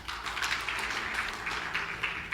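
Congregation applauding in a church service, a steady wash of many hands clapping at moderate level without voices.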